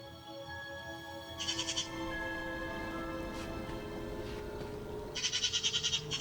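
Two short bursts of bleating, like a goat, sound at a distance over a steady background hum, separated by a few quiet seconds.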